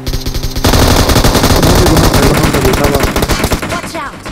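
Rapid automatic gunfire in the battle royale game BGMI rattles in loud, dense bursts of shots, nearly continuous, then breaks into spaced single shots near the end, with no talking.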